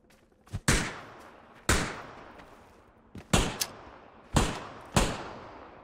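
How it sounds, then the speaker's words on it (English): Grenades bursting in the PUBG battle royale game's blue zone, six heavy booming blasts in irregular succession, each a sharp loud crack trailing into a rumbling decay, with no voices. "I have 3 blue zone nades."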